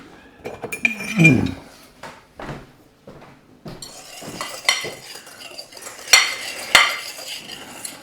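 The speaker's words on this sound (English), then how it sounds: "So now I'm going to mix it together and get my whisk." A metal whisk stirring sugar, flour, ground cinnamon and nutmeg in a bowl for apple pie filling, giving irregular clinks and scrapes against the bowl, close and moderately loud, with a voice speaking briefly early on.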